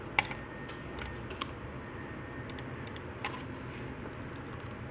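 Someone types a password on a computer keyboard at a workstation, with scattered light key clicks over a steady fan hum and no voices.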